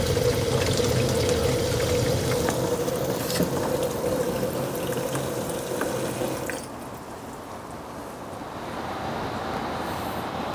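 Water pours steadily into the tank of a portable M-703-Cool-UV swamp cooler, a continuous close splashing stream that changes pitch and drops slightly in level partway through as the tank fills.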